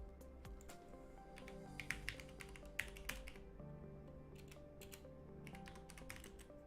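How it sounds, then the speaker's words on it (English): Quick, uneven keystrokes tapped on a computer keyboard, a fairly faint run of clicks with a few sharper presses, heard over steady low background tones with no talking. "Let me type it in the chat."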